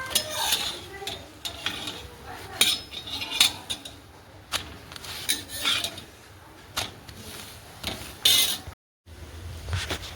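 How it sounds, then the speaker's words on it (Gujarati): Dishes and utensils being scrubbed and washed produce irregular close clinks and clatters of metal and crockery, with rubbing and splashing between them. "આપણે આવી ગયા છીએ વાસણ ઘસવા માટે"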